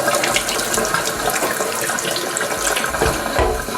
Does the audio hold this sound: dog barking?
no